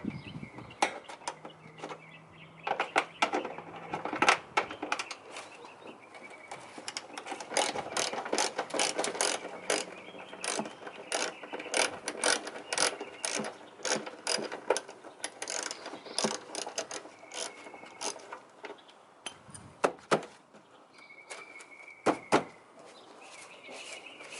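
Ratchet driving screws while Toyota Tacoma OEM mud flaps are installed, with rapid, uneven bursts of close metallic clicking and occasional knocks and handling noise.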